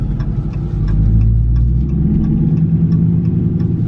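A 2019 Dodge Charger R/T Daytona with a muffler delete drives out of a parking structure, its engine giving a steady, deep rumble at light throttle that stays close and even throughout.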